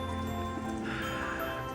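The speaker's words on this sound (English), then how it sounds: "now that we have received what they call the atmospheric river, where we just get 10 days straight of rain" Steady, dense rain patters onto a porch during a long atmospheric river downpour. The wash is close and continuous with a constant hiss of drops on the surface and no talking.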